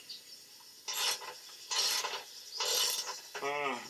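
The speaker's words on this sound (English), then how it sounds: "I'm going to loosen that up again." Ratchet turning a bolt on the subframe of a 2005 GM J-body Sunfire or Cavalier, three bursts of rasping clicks in a rhythmic back-and-forth, close and clear, followed by a short metallic creak.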